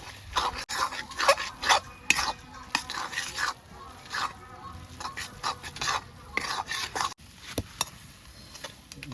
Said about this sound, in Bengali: গুঁড়োটা আমি এর মধ্যে দিয়ে দেবো ভালো করে মশলাটার সাথে মিশিয়ে দেবো